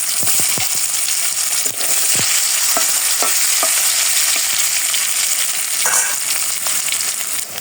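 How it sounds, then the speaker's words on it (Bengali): Kashmiri dough pieces frying in hot oil in a wok give a loud, unbroken sizzling hiss, punctuated by scattered metallic taps and scrapes of a spatula stirring. "একেবারে ভেজে উঠাই"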